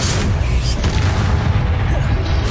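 Expelliarmus spell blast in the Hogwarts Legacy video game, a loud, continuous booming rumble with dense low-end energy that sustains for a couple of seconds without a break.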